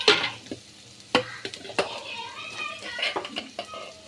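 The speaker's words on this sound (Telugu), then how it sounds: "ఇప్పుడు ఇందులో రైస్ వేసుకుందాం." Cooked rice being tipped into a pan with fried egg and stirred, producing scraping and clattering stirs over a soft sizzle, with a voice faintly in the background.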